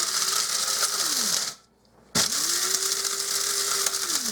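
Electric grinder whirring as it grinds dried onions into powder, a loud steady motor drone that cuts out briefly, then restarts and runs on continuously.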